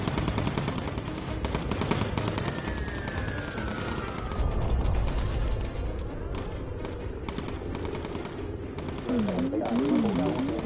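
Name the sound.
bomber gunners firing machine guns in video game Bomber Crew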